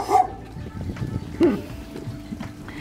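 A street dog barks in Pai, Thailand: a short bark near the start and another around the middle, fairly close, over steady outdoor street background with faint traffic.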